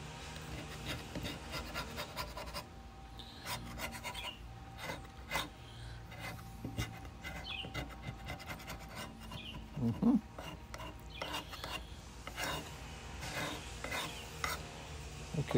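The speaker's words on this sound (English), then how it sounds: "I won't bore you with the continued scraping, but yeah, it's coming right off of there" Varnish is scraped off a wooden tool handle with quick, faint, rasping strokes in a steady rhythm that runs on and on, recorded close up with no voices.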